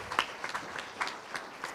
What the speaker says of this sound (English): Give him a hand clap for his blessings